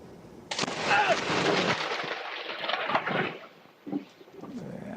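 A lightning strike from a severe storm in Wayne, New Jersey, caught by a doorbell camera: a sudden loud, close crack swells into a roaring rumble that fades over a few seconds, followed by faint sounds.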